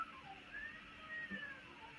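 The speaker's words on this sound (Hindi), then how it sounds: "आज बिल्लियाँ लड़ रही हैं बहुत आज।" Cats meow and yowl in a fight, faint and distant, with a few thin drawn-out cries over a quiet background.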